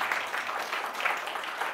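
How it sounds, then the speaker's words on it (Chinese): Congregation at a church prayer meeting applauding to welcome someone forward, a steady wash of clapping held for under two seconds with no voices over it. "掌声鼓励"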